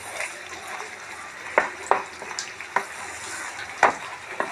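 A peanut and sugar mixture with ghee being stirred in a pan for peanut burfi, with a soft continuous sizzle and several distinct scraping knocks of a spoon, close and moderately loud.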